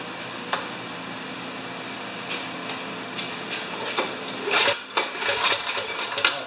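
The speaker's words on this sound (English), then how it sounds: "But first I'm going to stroke the engine a few times" A 30-inch Craftsman snowblower engine pulled over by hand a few times with the ignition off, giving rapid mechanical clatter and ratcheting bursts that grow busier toward the end, close and moderately loud.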